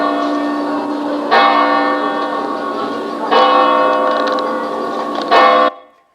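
An uncracked bell is struck three times at a slow, even pace, each strike ringing out clearly with a long, pure, sustained tone that overlaps the next.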